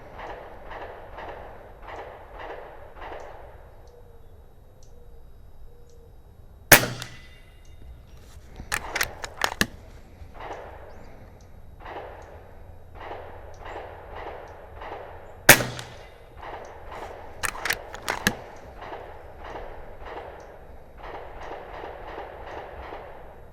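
An FX Leopard air rifle fires two sharp, close shots several seconds apart during target practice, each followed by a few brief metallic clinks, set against a recurring rhythmic background sound and no talking.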